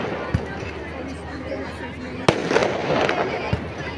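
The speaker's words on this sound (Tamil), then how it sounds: "இது கல்யாணத்தன்னைக்கு இதெல்லாம் வெடி வச்சுட்ருக்காங்க" Firecrackers going off at a wedding in India, a sharp nearby bang and a few scattered pops over a busy crowd murmur and background chatter.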